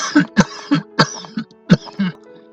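An old man coughs in a run of about eight harsh, hacking bursts with short gaps between them, close and clear, voiced by a narrator acting out the fit.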